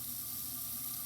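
Tap water runs steadily into a lab sink to draw suction through a Buchner funnel, making a continuous rushing hiss with no voices.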